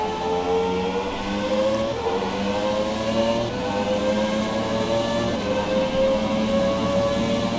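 An F1 race car in the F1 2017 video game drones steadily at speed, its engine pitch climbing, dropping at a gear shift, then climbing again under continuous wind and road noise.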